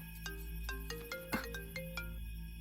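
A mobile phone ringtone plays a bright repeating electronic melody, loud and close, with no voices.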